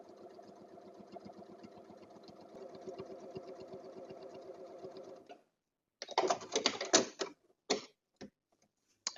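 A regular home sewing machine quilting fabric runs in a steady fast stitching rattle for about five seconds, then stops, followed by a pause and several loud handling clatters and bumps.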